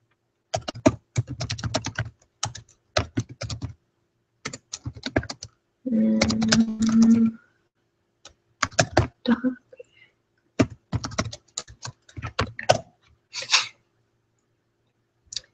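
Fingers type on a computer keyboard to enter a password, several quick bursts of clicking keystrokes separated by short pauses, with one denser buzzing stretch in the middle; no talking.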